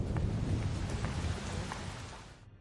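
Steady rain pours down with low rumbles of thunder rolling underneath, fairly loud and continuous before tapering off at the end.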